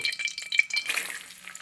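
Garlic, 150 grams of cloves, sizzling and being stirred in hot sesame oil for a Kerala fish pickle, a crackling hiss with scattered pops that eases off, alone without voices.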